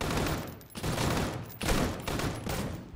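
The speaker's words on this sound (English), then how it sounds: "He's shooting me." Rapid automatic gunfire in the survival shooter Deadside, a dense loud fusillade of bursts with short gaps, continuous across the whole stretch.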